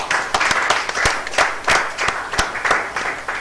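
Students at a youth competition's final day clap for themselves, with sharp individual claps standing out over a busier layer of scattered group applause for a few seconds.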